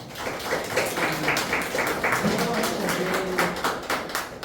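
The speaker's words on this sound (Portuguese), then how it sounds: "E as palmas é para Ele" A church congregation clapping hands during a weekly worship service, rhythmic sharp claps in a steady beat filling the room, with a faint voice underneath.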